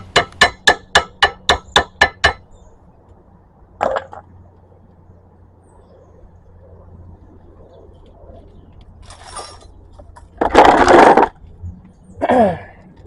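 A hammer gives a brake caliper on a 2016 Mazda CX-5 eight quick, sharp metallic taps in an even row, followed by a lone knock and a few louder clanks and scrapes of tools further on.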